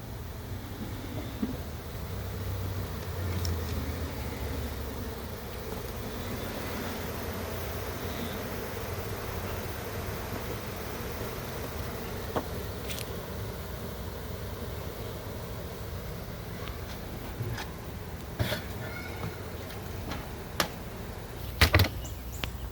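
Honeybees at a Russian hive during a honey harvest, with smoke in use, make a steady, dense buzz that fills the whole stretch at a close, even level, with a few sharp knocks and clicks near the end.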